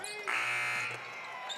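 A loud electronic buzzer sounds at the end of a quarter in a Big 12 women's college basketball game between Houston and West Virginia, one sustained blare over arena crowd noise.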